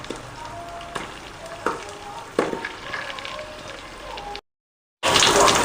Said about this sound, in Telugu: అల్లం వెల్లుల్లి పేస్ట్, ఆనియన్స్. సో ఇవి కొంచెం వేగాలి కాబట్టి ముందే వేసేద్దాం